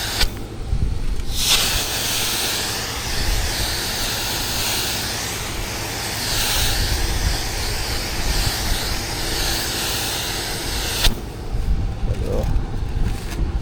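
Pressure sprayer misting water onto a house roof during roof washing in Orlando, Florida, a steady broad hissing spray that runs for several seconds then cuts off, with a few soft knocks around it.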